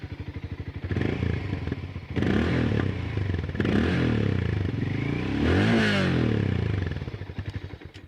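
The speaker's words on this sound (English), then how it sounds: "This motorcycle does sound quite good, that is for sure. Let me make you hear the exhaust note." A Hero Mavrick 440 motorcycle idles with a fast, even exhaust thump, then revs up loudly several times to a raised drone before settling back to a throbbing idle, heard up close.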